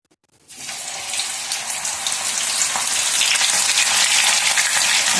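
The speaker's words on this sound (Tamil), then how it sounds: "இப்போ நான் பாவக்காவை" Chopped bitter gourd pieces fry in hot oil on a griddle, a loud, steady, close sizzle that bursts in after a brief silence and keeps building without any talk.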